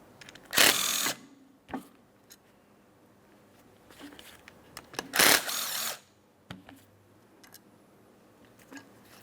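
A power tool on two 13mm bolts of a brake caliper on a 2008-2016 Chrysler Town & Country: two loud, short whirring bursts a few seconds apart, with faint clicks and handling noises between them in a quiet setting.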